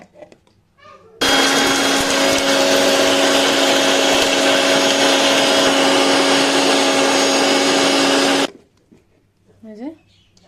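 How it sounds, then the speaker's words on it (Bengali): A kitchen blender whirs loudly and steadily for about seven seconds as it grinds chickpeas into flour, with brief talk just before and after the motor runs. "এই যে ব্লেন্ড করার জন্য এবার ছোলাটাকে নেওয়া হয়েছে"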